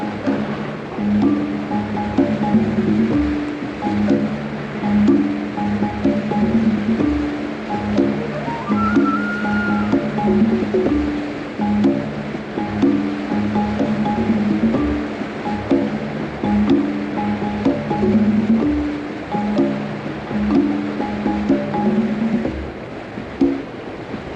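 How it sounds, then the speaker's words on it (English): Rushing white water rapids churn in a steady, loud wash throughout, with a low continuous roar and no pauses, heard during a river run aboard a boat. "White water, Pete."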